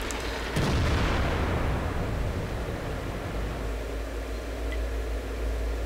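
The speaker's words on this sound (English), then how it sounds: "IS-7 shoots and hits the track of the wreck in front of him." An IS-7 heavy tank gun fires in World of Tanks, a single loud booming shot with a sharp onset that rolls into a long, dense rumble lasting several seconds.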